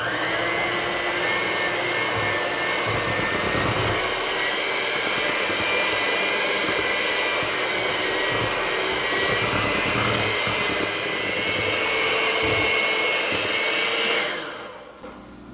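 Electric mixer beating room-temperature butter for a sweet potato pecan pie, a loud continuous whirring drone that holds steady for about fourteen seconds before shutting off.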